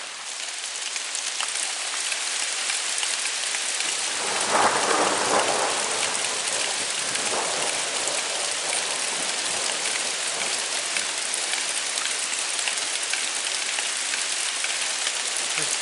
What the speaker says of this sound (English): Started off with sun and ended up with thunderstorms.